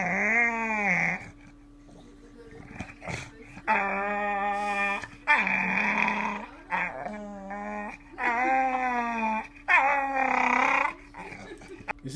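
A dog lets out long, drawn-out howls and growling groans in repeated rising and falling bursts, close and loud, with short pauses between calls.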